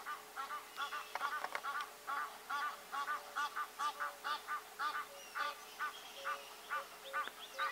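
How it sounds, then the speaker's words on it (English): Egyptian geese honk steadily at a distance in Kruger Park, a long rhythmic series of nasal calls heard faintly over quiet outdoor background. "Egyptian geese in the background."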